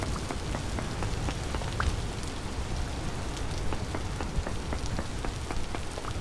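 Loud, steady rainfall in the video game Vintage Story, a dense continuous patter of drops hitting surfaces with scattered sharper taps, heard alone without talk.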